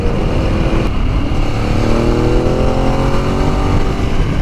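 A superbike's engine throbs and revs steadily while being ridden, a loud, continuous roar with rising pitch sweeps, close up and alone without speech.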